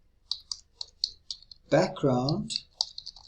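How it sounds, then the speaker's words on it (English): Quick, light clicks of a computer keyboard tap out in short bursts, with a voice speaking briefly over the keystrokes midway. "So I type in background dash color, then I put a colon"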